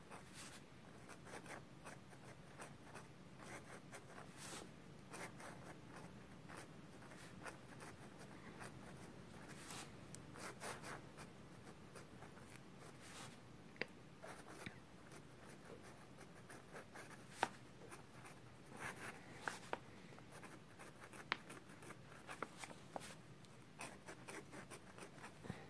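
A vintage Waterman's flexible-nib fountain pen writing normally on paper, making a soft, steady scratching across the page that continues throughout, with occasional faint taps and no talking.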